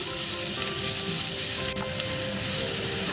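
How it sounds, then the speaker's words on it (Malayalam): Onion and green chilli sauté in a pan over a medium flame for masala pasta, producing a loud, constant close-up sizzle with one brief stir or scrape partway through and no talking. "മീഡിയം ഫ്ലെയിമിലിട്ട് നമുക്കിതൊന്ന് സോട്ടേ ചെയ്തെടുക്കാം"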